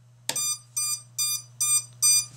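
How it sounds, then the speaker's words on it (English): An FPV drone beeper, an Eachine Tyro79S triggered from a transmitter switch, sounds five short, bright electronic beeps at an even rhythm over a faint steady low hum. "there's definitely an audible beep"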